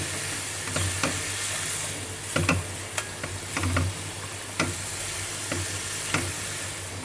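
Bottle gourd and prawns are stirred in a frying pan over a steady, close sizzle, with a spatula scraping and knocking against the pan at irregular intervals.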